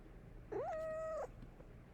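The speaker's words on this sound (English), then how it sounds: "And if you hear my cat meowing, I apologize." A single drawn-out cat meow, close and clear, rising then holding steady for under a second against a quiet room background.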